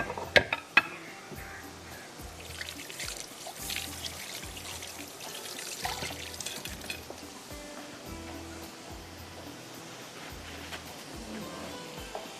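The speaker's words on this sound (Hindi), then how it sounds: "अब मैं ज़रा हाथों को धोती हूँ" Hands being washed under running tap water in a home kitchen, a continuous pouring trickle with soft splashes and a few sharp clicks and knocks near the start, close and moderately loud, no talking.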